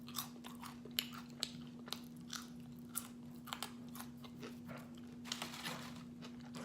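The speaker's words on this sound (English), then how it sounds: "oh, I love the crunchy fry." Crunchy french fries from Five Guys being bitten and chewed close to the mic, a steady series of sharp crisp crunches with a constant low hum underneath and no talking.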